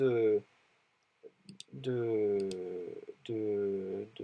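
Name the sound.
computer mouse clicking in CAD software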